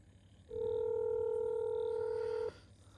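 A telephone rings with one steady electronic ring tone on an outgoing call, held for about two seconds and then cut off abruptly, close and fairly loud against a quiet background.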